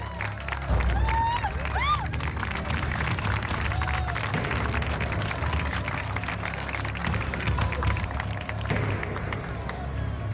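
Studio audience applauding and cheering for a player joining a Los Angeles team on a Spanish-language family TV show, a steady crowd wash of clapping and whoops lasting throughout, with voices mixed in.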